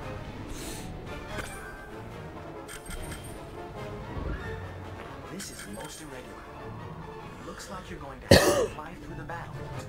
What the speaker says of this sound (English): Too busy coughing.